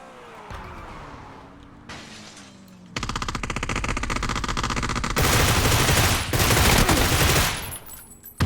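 Rapid bursts of rifle fire in PUBG, loud and close, with dense sustained volleys building from a quieter start and continuing almost without pause.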